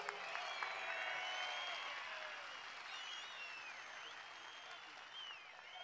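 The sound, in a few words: rally crowd applause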